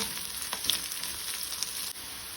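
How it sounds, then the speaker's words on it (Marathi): Chana dal frying in hot oil, a steady bright sizzle with small crackles and pops, close and even throughout, no voices. "दाळ अशी मातशी तेलार तळसून घेवपाक जाय।"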